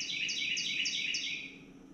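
A small bird sings inside a motorcycle workshop, a series of four clear, bright, descending chirped phrases repeating in steady rhythm, close and fairly loud against a quiet room hum.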